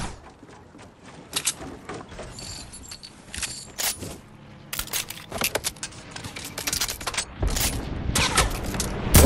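Gunfire in Fortnite: scattered single shots and short bursts at varying distances, building denser and louder toward the end, with no talking.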